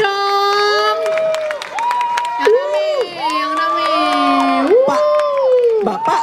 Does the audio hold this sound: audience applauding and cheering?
yes